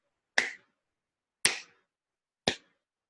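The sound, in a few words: hand clapping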